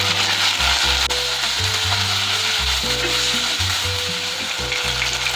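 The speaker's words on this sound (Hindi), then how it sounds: "चिकन बोनलेस लिया है मैंने 300 ग्राम, वो डाल देंगे और इसे पकाएंगे कलर चेंज होने तक" Boneless chicken frying with garlic, ginger and onion in a pan, a loud, continuous close sizzle with regular stirring scrapes throughout and no talking.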